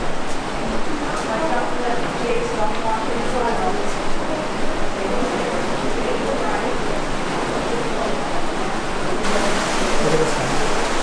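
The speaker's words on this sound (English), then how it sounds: "River underground." An underground river flows through Crystal Cave in Sequoia, a steady rushing roar of water that fills the cave evenly throughout, with voices talking over it.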